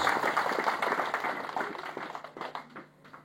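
A church congregation claps together in dense, lively applause that gradually thins and fades out over a few seconds.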